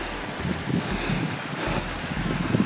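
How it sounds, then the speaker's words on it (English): A brook flowing beside a hiking path on the outskirts of a Swiss village in autumn, a steady close broadband rush of water with low wind rumble and some buffeting on the microphone, no voices. "nice sound of a brook next to the path"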